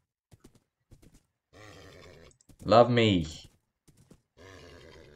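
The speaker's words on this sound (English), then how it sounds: "This horse is really stubborn." A Minecraft horse lets out a single loud, drawn-out neigh midway, surrounded by brief quiet voice sounds and short spoken words.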